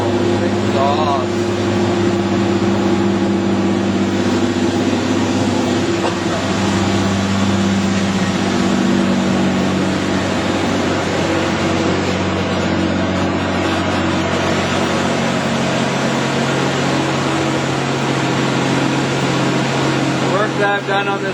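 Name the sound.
Ford Expedition engine running with exhaust sound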